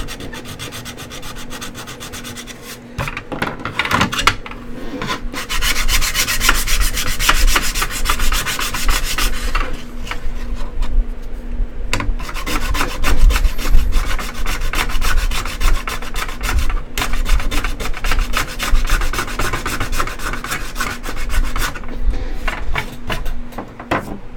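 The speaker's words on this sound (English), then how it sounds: "Trying out this new sandpaper Wacom suggested." A stylus pen rubs back and forth on a Wacom-suggested sandpaper texture sheet, a loud, close, gritty scratching in long continuous strokes with brief pauses between passes.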